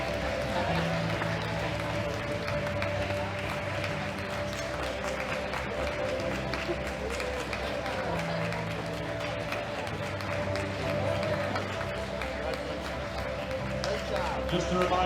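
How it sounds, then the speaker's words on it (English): At a world classic powerlifting championship, an arena crowd applauds the women lifters leaving the platform, a distant, steady wash of clapping under music and murmuring voices throughout. "Give these ladies a round of applause."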